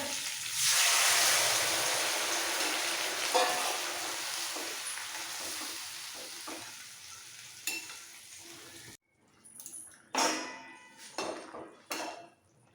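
Boiled raw mango water is poured into a hot pan for chutney, setting off a loud burst of sizzling that slowly fades, followed by stirring, scraping and clinks of a utensil against the pan.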